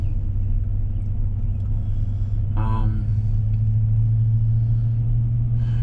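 A Chevy Silverado truck's engine rumbles steadily from inside the cab while driving, a constant low drone throughout, with someone talking briefly over it midway.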